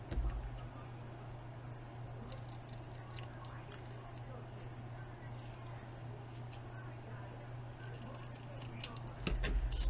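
Scissors trim paper craft pieces for an envelope folio, giving faint, scattered snips over a steady low hum. The cutting stays quiet and close, with soft handling noises in between.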